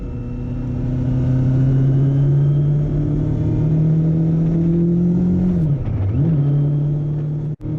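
A motorcycle riding a potholed, unpaved road in Telemark, Norway gives a loud, steady engine drone that holds its pitch and then briefly dips and recovers near the end, close and continuous with no talking.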